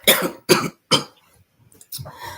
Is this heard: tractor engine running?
no